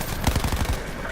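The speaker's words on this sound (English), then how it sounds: "I'm going to use the MX9. So obviously this is the submachine gun that I was on about earlier." An MX9 submachine gun fires a rapid burst in Call of Duty: Black Ops 4, roughly half a dozen quick sharp shots packed close together and trailing off.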